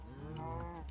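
Cattle mooing in the Minecraft video game, a steady harmonic lowing held for the whole second, fairly loud and close with no talk over it.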